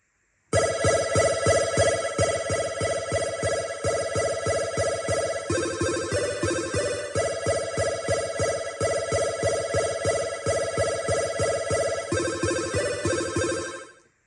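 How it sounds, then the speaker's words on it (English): Atari Arpeggio multipad on a Yamaha PSR-SX920 keyboard: a fast, loud, bright chiptune-style arpeggio of rapid repeated synth notes, steady throughout with a brief pattern change midway, ending cleanly with no talking. "We're going to go for, let's see, Atari Arpeggio."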